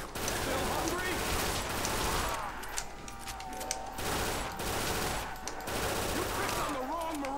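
A UMP submachine gun fires rapid automatic bursts in a Call of Duty custom zombies map, loud and dense with a brief gap midway, while a player talks over the gunfire.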